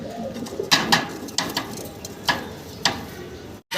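A fancy pigeon cooing in a loft, several soft rhythmic coos and short bursts over a low background murmur, close and moderately loud.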